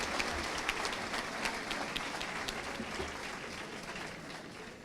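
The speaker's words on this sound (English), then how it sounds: "Please, a rousing round of applause." Applause from an audience at a ceremony honoring young people's excellence, a steady dense wash of many hands clapping at moderate distance, continuous for several seconds without a break.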